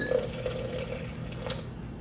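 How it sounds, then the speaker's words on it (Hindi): Water is poured into a summer drink being prepared, a short steady splash and trickle of liquid heard alone at moderate volume. "इसमें थोड़ा सा जाएगा पानी"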